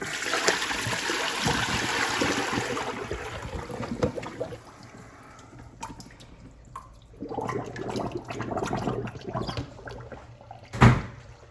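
Hot water, around 130 to 140 degrees, dumped out of a container in a steady splashing pour for a few seconds, then trailing into scattered trickles and drips with a brief knock near the end.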